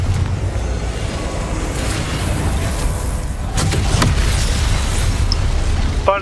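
A Confringo spell explodes in Hogwarts Legacy, a heavy boom over a dense rumble of game effects, with a few sharp bursts near the middle and a voice speaking.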